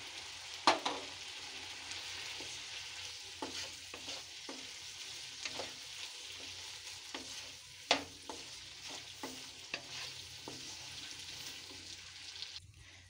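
Potatoes and eggplant sizzle quietly in a pan while being stir-fried, with a steady frying hiss broken by scattered scraping and clinking stir strokes from a spatula.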